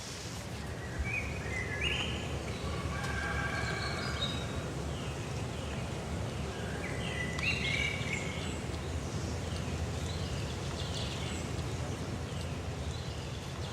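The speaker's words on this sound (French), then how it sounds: "Écoute les oiseaux qui chantent, l'eau, les gens qui parlent." Birds sing and chirp outdoors in Hanoi, repeated bright trills scattered over a constant low background murmur of the surroundings, moderately distant and fairly faint.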